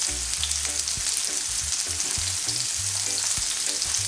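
Hot oil fries and sizzles loudly in a pan at close range, a dense continuous crackle while barracuda and lobster cook, with faint clinks beneath and no talk.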